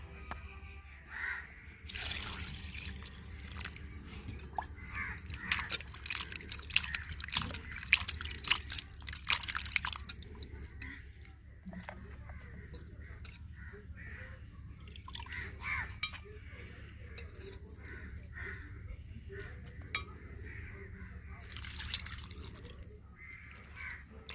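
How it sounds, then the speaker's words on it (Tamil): Water is poured over peeled dried fish to wash it, producing intermittent splashing and dripping bursts close by, while crows caw in the background between the pours. "இப்போ சுத்தமா தண்ணி ஊற்றி கழுவி எடுத்துக்கிறோங்க"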